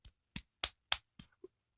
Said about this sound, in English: I gotta give some claps for that.